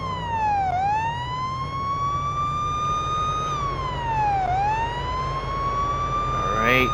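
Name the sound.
police car siren in a video game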